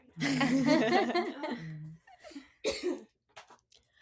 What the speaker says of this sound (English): Of course I have to cough.